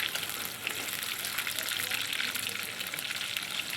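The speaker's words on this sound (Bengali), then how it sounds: "পটলটা প্রথমে আমি ভেজে নিচ্ছি এখানে" Pieces of pointed gourd fry in hot oil, giving a loud, continuous, dense sizzle with a bubbling crackle that stays constant throughout, with no voice over it.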